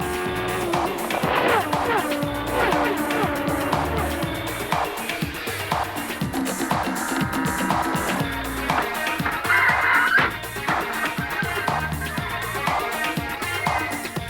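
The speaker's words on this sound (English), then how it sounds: "Wheel-to-wheel racing, speeds in excess of 200 miles an hour. This is Indycar." Indycar race cars go wheel-to-wheel at over 200 mph in the 1993 season, among them Nigel Mansell's Lola Ford. Engines roar loud and continuously, with tire squeals and cars sweeping past, layered under music.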